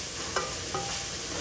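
Fajita ingredients sizzling in a skillet, a constant hiss of frying with two brief scraping stir strokes, close and fairly loud, no voices.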